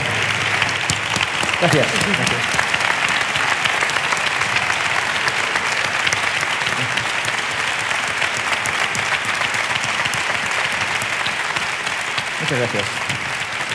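An audience claps steadily and warmly for a speaker, dense sustained applause that fills the room, while someone speaks briefly over it.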